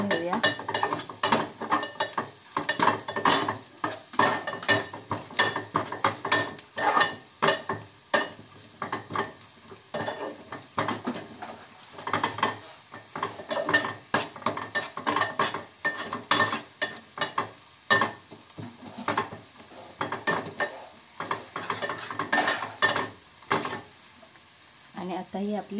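Spices being stirred into a clam curry in a pan, a spoon scraping and knocking against the metal in a steady rhythm with light sizzling underneath, close and fairly loud with no voices.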